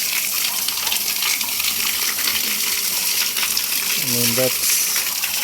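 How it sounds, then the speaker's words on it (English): Water gushes steadily from a submersible pump at a bore well among rice fields in Roxas, Isabela, its outflow reduced by dry weather; a broad continuous rush fills the scene while someone speaks briefly over it. "So the submersible has been running for a while now."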